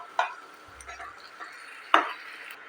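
Chicken frying in a pan over a low gas flame and being stirred, with a few sharp metallic scrapes and clinks of the utensil against the pan over a faint quiet sizzle.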